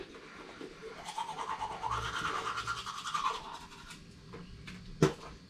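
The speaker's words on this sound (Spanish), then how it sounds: "así es como yo me cepillo" A toothbrush scrubs teeth up close in a morning routine, a quiet rhythmic bristly brushing that swells in the middle and ends with a short knock.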